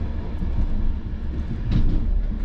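The Lake Van Express rolls along its tracks in Turkey, heard from on board as a steady, loud, low rumble with faint rhythmic clatter from the wheels, and no voices.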